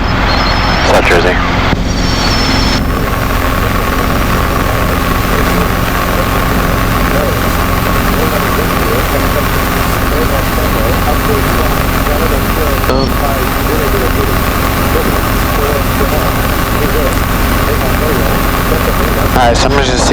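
A Robinson R22 helicopter in flight with a student pilot on a mock check ride near KVAY: loud, steady engine and rotor drone throughout, with radio calls and cockpit talk over it.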